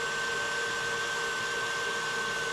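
An electric mixer whips a dessert mixture with a steady, continuous high whine and hum, unchanging and fairly quiet throughout, with no voices.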